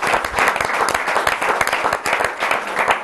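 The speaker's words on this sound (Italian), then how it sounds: "facciamo un applauso" Dense audience applause fills the room at an Italian regional sports-federation gathering, a steady, loud wash of many hands clapping with no voices on top.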